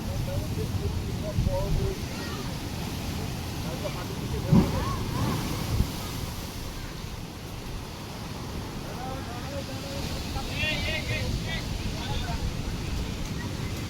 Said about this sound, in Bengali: ঢেউ দেখেছো পুরো কত দূর আসছে